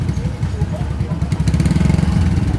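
A Honda Win motorcycle engine catches and runs, a close, throbbing idle that rises a little as it is revved, with voices speaking over it.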